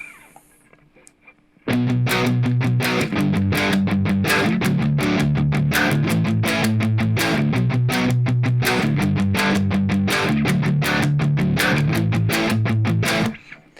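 A distorted electric guitar chugs a driving rhythm of rapid, tightly repeated chords with some notes not palm muted, loud and steady for several seconds, with no talking.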